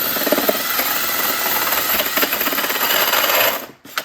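A power drill fitted with a hole saw bores into a brick wall while installing an electrical outlet, a loud, steady grinding whine that cuts off abruptly near the end.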